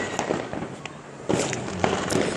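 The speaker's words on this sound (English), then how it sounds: "There's fireworks in front of their houses." Fireworks bursting outdoors on New Year's in front of nearby houses, a string of sharp cracks and booms at irregular intervals, some close and loud, over a continuous noisy outdoor background.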